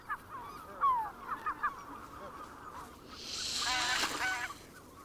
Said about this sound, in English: The large, white-fronted geese are certainly able to defend their eggs with aggressive displays.